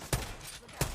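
Two sharp gunshots from a video game weapon, spaced well apart, loud and close with a low rumble between them and no talking.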